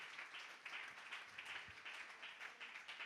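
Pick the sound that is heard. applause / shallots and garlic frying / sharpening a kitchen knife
applause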